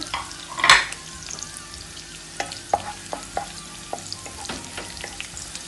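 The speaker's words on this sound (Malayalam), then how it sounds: "ഒന്ന് ഫ്രൈ ആവട്ടെ എന്നിട്ട് നമുക്ക് ഇഞ്ചി ചതച്ചതും വെളുത്തുള്ളി ചതച്ചതും ഉള്ളിയും കൂടി ചേർത്ത് കൊടുക്കാം" Prawns frying in a pan with crushed ginger, garlic and onion, giving a steady close sizzle with a loud burst early on and then sharp spatula scrapes and clicks at irregular intervals, with no voices.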